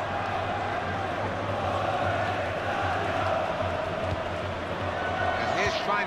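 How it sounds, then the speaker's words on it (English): Steady crowd roar from a FIFA 14 football match after a goal, a dense continuous stadium cheer at constant loudness throughout with no individual voices standing out. "It's a fine goal, and we can see it again here. It's a really good one, and got the crowd on the feet."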